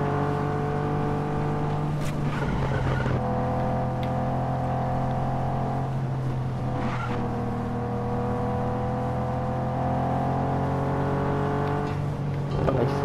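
A car driving in the video game Just Cause 3, its engine giving a loud, continuous drone that rises and falls with gear changes, steady for the whole stretch with no talking.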